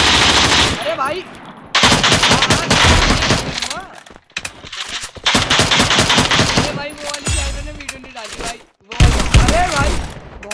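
Rapid automatic gunfire from the Free Fire battle game in long loud bursts separated by short gaps, with a voice briefly calling out in between.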